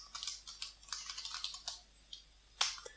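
Computer keyboard typing heard as a short run of light, quiet key clicks with uneven spacing, ending in one louder tap, with no voices.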